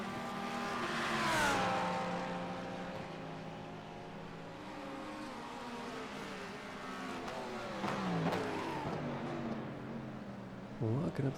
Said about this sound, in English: Locking up the tires again there.